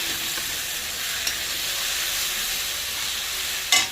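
Tomatoes go into a hot pan of sizzling oil and spices, giving a loud, steady frying hiss up close, with a sharper crackle near the end.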